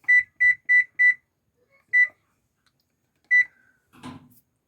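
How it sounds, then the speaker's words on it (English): Kitchen oven timer beeps sharply in a quick run of four, then two more spaced beeps, loud and close, followed by a brief clatter while blueberry muffins finish baking. "our timer is over"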